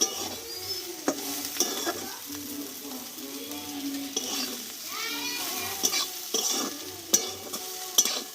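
Sajne data (drumstick) curry is stirred in a pan, the spoon scraping and clinking in repeated strokes over a soft, continuous sizzle, with faint background voices now and then.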